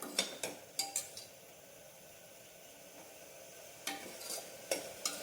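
Mutton pieces stir and fry in hot oil for a curry, soft background sizzle broken by several sharp clinks and scrapes of a spoon against the pan.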